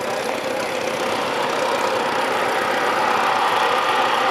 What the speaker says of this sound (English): Richard Sturdy from Galway, North Yorkshire, with a Case 1832K, with the latest development of the famous Case cross motor range, with a transverse engine on the tractor